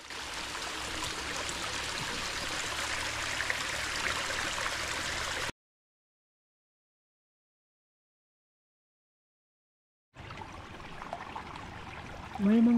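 Cold, clear spring water flows steadily in the mountains, a constant close rushing wash that cuts out midway and then returns.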